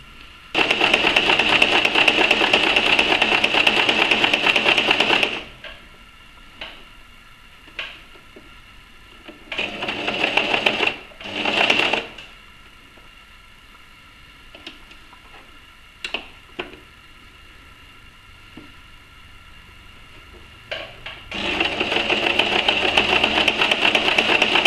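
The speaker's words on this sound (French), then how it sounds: "je vais les poser l'un sur l'autre pour ensuite pouvoir les coudre" A sewing machine stitches fabric face mask pieces together in three loud, steady runs of rapid mechanical whirring. Between runs come quiet gaps with scattered clicks and handling taps.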